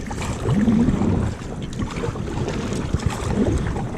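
A boat being paddled on Lake Hickory, North Carolina, with wind buffeting the microphone and steady water wash, plus brief splashy strokes coming at irregular intervals; no speech.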